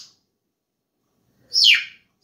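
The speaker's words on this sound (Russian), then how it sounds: "Птички." A single short bird chirp sounds close and fairly loud, a quick sweeping tweet set against near silence with a faint trace of another call at the start.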